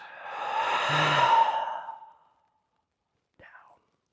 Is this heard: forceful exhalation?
yes